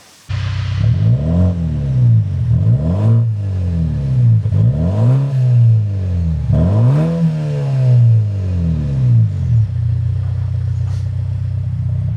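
A BMW 330e hybrid with quad exhaust passes close by several times on a rainy UK day, each flyby a loud engine note that swells and falls away, separated by steady rumbling idle-like drone.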